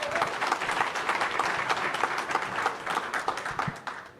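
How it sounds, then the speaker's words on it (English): An audience at the 2024 Aspen Security Forum gives panelists a round of applause, dense steady clapping that fills the room and fades toward the end. "just a round of applause for our panelists"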